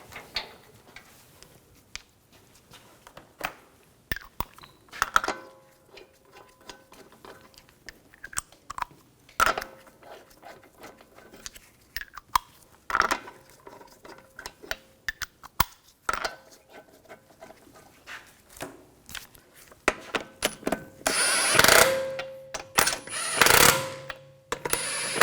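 Lug bolts are snugged down on a 2011-2018 Volkswagen Jetta wheel, with irregular close ratchet clicks and metallic taps, ending in a louder burst of rapid mechanical rattling.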